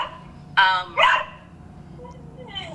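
A dog gives two quick, close barks in a row, then falls quiet apart from faint softer sounds in the room.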